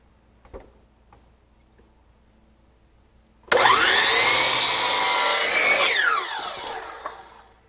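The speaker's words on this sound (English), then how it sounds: "If you've never seen one of these Hercules type miter saws from Harbor Freight, they've got what they call a shadow line." A Hercules miter saw from Harbor Freight cuts through an 8-foot wood board. After a few quiet taps, the motor bursts on loud and close, whines through the cut for about two and a half seconds, then spins down.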